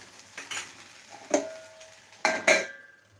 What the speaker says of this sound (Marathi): अधूनमधून झाकण काढून भेंडी हलवून घ्यायची